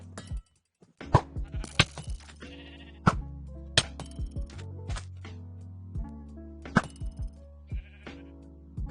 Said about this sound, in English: Move it, sheep.